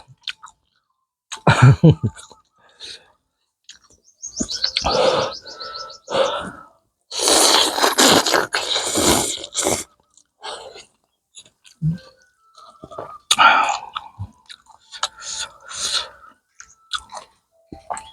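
Close-up slurping and chewing while eating a bowl of offal noodle soup, with bursts of loud slurps and intermittent bites and mouth noises scattered between quiet gaps.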